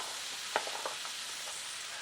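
Onion fries in a pan for cornbread dressing, a constant close sizzle with a couple of soft stirring clicks and no voices.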